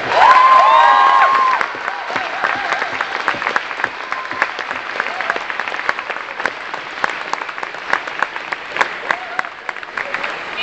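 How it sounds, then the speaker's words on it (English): An expo crowd greets actress Katee Sackhoff at the start of her panel with loud sustained applause, opening with cheers and whoops, then settling into steady dense clapping that continues for over ten seconds. "if I can have a massive round of applause for Starbuck herself, Katee Sackhoff"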